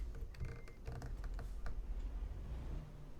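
Computer keyboard keys clicked in quick, uneven bursts while someone plays American Truck Simulator, with low rumbling game audio steady underneath.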